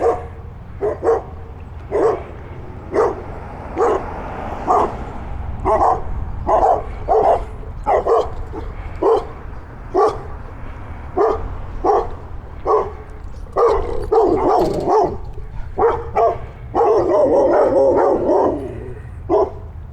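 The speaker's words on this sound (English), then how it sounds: "I'm gonna let these dogs have their say for a minute." Dogs guarding a yard behind a fence bark over and over, loud and close, in a rapid, irregular volley. The barks grow denser and more frantic toward the end, and no one is talking.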